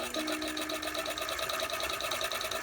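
A toy sewing machine stitches through felt with its thread tension set too tight, whirring in a steady, fast mechanical rhythm close up for the whole stretch.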